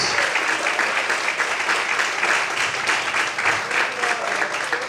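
A church congregation claps continuously and loudly throughout, a thick, even wash of many hands applauding with no pauses.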